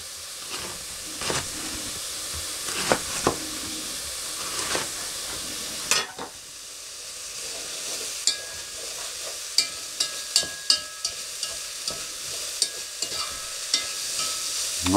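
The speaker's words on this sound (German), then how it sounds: "Weißkohl und Zwiebeln putzen, klein schneiden und zusammen in eine Pfanne anbraten." White cabbage and onions fry in a pan, giving a steady hiss and sizzle across the whole stretch, close and even, with occasional clicks and knocks from stirring.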